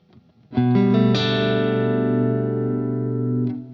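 A James Tyler Dann Huff Black Classic electric guitar with its pickups wired in parallel rings out a loud sustained chord through effects, struck twice in quick succession and left to ring for about three seconds before being cut off.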